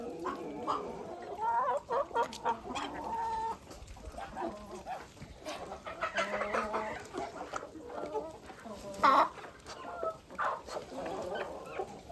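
Several small bantam chickens clucking and chattering close by in irregular bursts, with a dog barking now and then among them.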